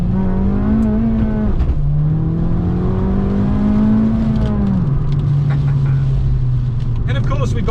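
An Abarth 695 70th Anniversario engine with its Monza exhaust valve holds a steady rev, then drops and settles into a lower drone, loud and close.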